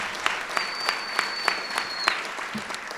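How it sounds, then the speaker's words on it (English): A room at Brooklyn Borough Hall claps for the Borough President at an Italian-American heritage event. The claps are sharp and evenly spaced over a light hum, sounding like a modest round of applause. "So let's give a round of applause to our Borough President."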